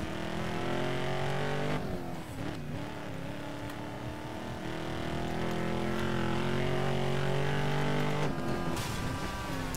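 Ford Raptor off-road truck engine in the Need for Speed Most Wanted video game, a steady droning motor with layered harmonics that shifts pitch around two seconds in and again near eight seconds, loud and continuous with no talk.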